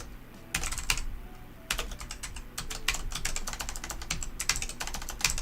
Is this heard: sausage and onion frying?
no